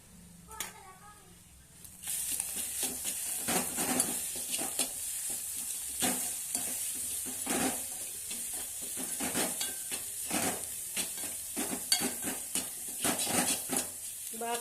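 An egg fry with turmeric and salt being stirred in a pan: repeated scraping and clinking strokes over a light sizzle, steady and close, with a voice talking throughout.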